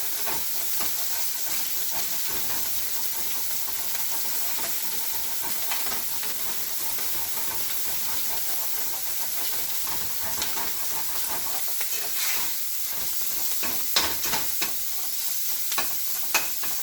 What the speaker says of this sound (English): Started out with it too high, so I'm having to keep this stirred up